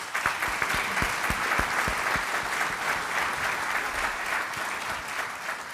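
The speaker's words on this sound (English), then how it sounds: "please give them a round of applause" Audience applause after a lifetime achievement award acceptance speech honoring sales leadership, a steady dense wash of clapping from a crowd, sustained and even for several seconds with no talking.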